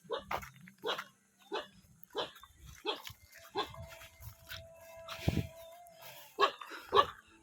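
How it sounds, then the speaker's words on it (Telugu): A dog in a lone hillside house in a tribal hill village barks repeatedly in a steady series of short yaps, fairly distant and faint, with brief farm-animal calls and some talk nearby. "వాటికి తోడుగా ఈ కుక్క."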